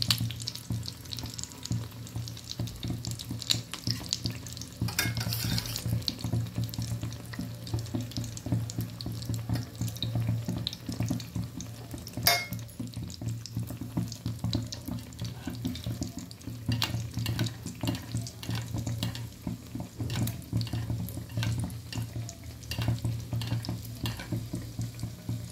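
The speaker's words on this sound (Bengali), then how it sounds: "দেখুন এইভাবে আমি একটা একটা করে সব বেগুন চাক ভেজে নেব।" Eggplant slices fry one by one in a pan with a steady low sizzle and crackle. Soft scrapes and a few knocks from handling the slices sound close by, and no one speaks.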